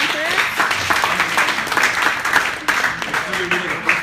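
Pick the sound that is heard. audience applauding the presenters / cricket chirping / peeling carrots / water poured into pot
audience applauding the presenters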